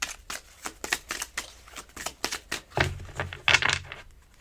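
Tarot cards shuffled and dealt for a Sagittarius reading, a quick run of crisp riffles and flicks, close and fairly loud, with a few heavier slaps of cards landing toward the end.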